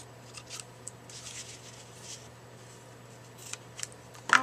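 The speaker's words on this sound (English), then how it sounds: "Trim off my ribbons." Scissors snip ribbon ends on a Valentine gift box, a few short, faint cuts spread across a quiet room, with a sharper snip near the end.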